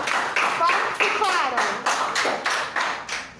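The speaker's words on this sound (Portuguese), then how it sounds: "Palmas para vocês." A few hands clap together in distinct bursts for a class at the end of a lesson, roughly ten sharp claps at an uneven pace, close and moderately loud.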